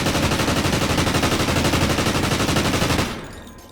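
Rapid automatic MTAR rifle fire in Call of Duty Ghosts rattles in one loud, unbroken burst of evenly spaced shots for about three seconds, then cuts off into a brief fading tail.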